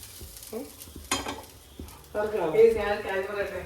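Grated coconut frying in hot oil while being stirred, a few scattered clinks and scrapes first, then a loud, dense sizzle taking over the second half.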